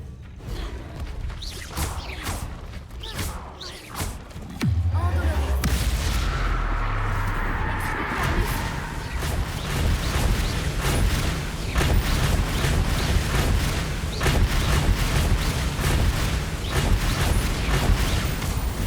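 A Confringo fire spell in Hogwarts Legacy sets off loud explosions, a sudden heavy blast followed by sustained roaring, crackling booms and rumbling impacts that continue close and dense throughout.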